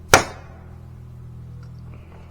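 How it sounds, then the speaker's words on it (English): An empty brake cleaner aerosol can is punctured on a metal spike, giving one sharp metallic crack followed by a faint, steady hiss of escaping residue, with no talking. "So we're going to crack it open here on this spike that I put in here."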